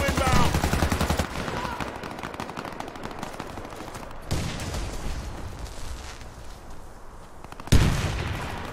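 Video game gunfire in a tactical shooter: loud rapid bursts of automatic fire with sharp single shots and a couple of heavy blasts, close and dense, running continuously.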